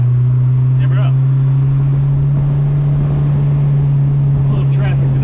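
A Fiat X1/9 with a freshly rebuilt engine, forged pistons and a PBS cam, drones steadily on a test drive, a loud constant low hum from the cabin with brief faint voices.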